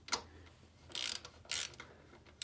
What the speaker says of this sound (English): 14mm to loosen the bolt on the brake torque arm.